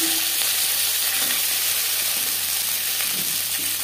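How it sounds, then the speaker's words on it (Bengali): Flat beans hit hot mustard oil in a pan and keep up an even, dense sizzle, with a few faint knocks and stirring sounds underneath. "সরষের তেল গরম করে নিয়েছি, এবার দিয়ে দেবো শিম"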